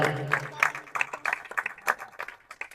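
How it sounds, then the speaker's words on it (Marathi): An audience claps for a cricket team at a prize ceremony for winning sides, scattered but lively applause with individual claps standing out, a voice talking over it. "जोरदार टाळ्या वाजवतात भीमज्योत साठी."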